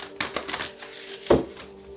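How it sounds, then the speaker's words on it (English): Tarot cards are shuffled close by, giving soft papery riffles and taps with one sharper slap. "Let's get one more shuffle."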